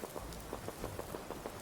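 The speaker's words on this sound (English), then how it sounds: "it's raining" Rain falls in the video game Fallout 4, a soft, steady patter with faint droplet ticks, quiet and even throughout with no talk.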